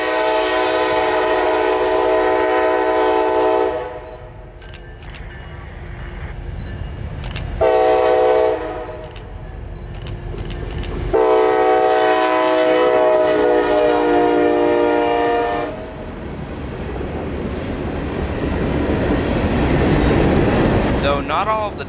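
A solo CSX ST70AH locomotive, number 8902, passing close by with a loud sustained horn in long blasts separated by brief breaks, then heavy rumbling wheel and engine noise as the train rolls past.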